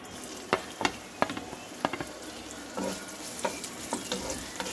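Chopped onion frying in hot oil in a wok, a soft steady sizzle broken by repeated clinks and scrapes of a stirring spatula, fairly faint and without voices.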